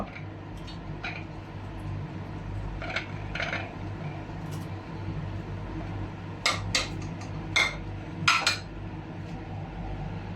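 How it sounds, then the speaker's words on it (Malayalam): Cutlery and pot clatter as onion, green chilli, curry leaves, tomato and cumin for restaurant-style dal fry go straight into a pressure cooker, with scattered clinks and taps over a steady low hum, no talking. "എല്ലാം ഡയറക്റ്റ് കുക്കറിലേക്ക് നമ്മൾ ഇടുക."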